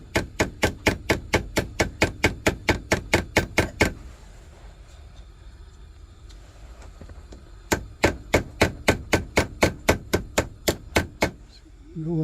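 Rapid metallic hammer strikes on steel pins in a knife, in a steady rhythm, two long bursts of evenly spaced blows separated by a quiet pause.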